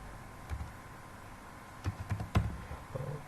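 Scattered keystrokes tap on a computer keyboard, a few isolated clicks followed by a short quick burst of typing, quiet and close against a faint background hiss.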